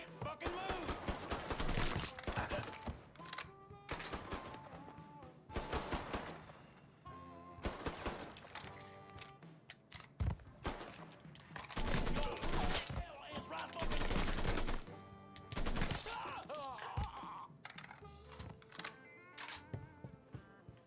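Gunfire in the Mafia III video game, with repeated bursts and volleys spread across the whole stretch, loud and dense, mixed with game sounds and under speech.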